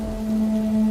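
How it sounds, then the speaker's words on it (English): Heavy rain pours down during a sudden thunderstorm, a steady, even hiss lasting the whole moment beneath a sustained musical drone. "it started raining heavily"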